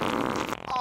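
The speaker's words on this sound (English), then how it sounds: "Have you never heard of farts?" A brief cartoon fart sound effect, a short, buzzy, sputtering blurt under a second long, moderately quiet.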